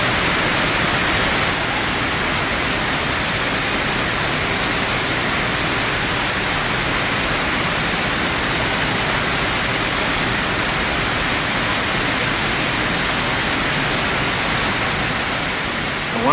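Waterfall in an urban courtyard, a dense, steady rush of falling water filling the space loudly and evenly with no pauses, close to the listener.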